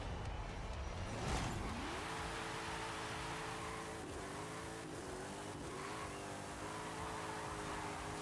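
Hot Wheels dragster engine in a video game revving up to a steady high drone, rising sharply early on then holding with small dips, continuous and fairly close with no talk.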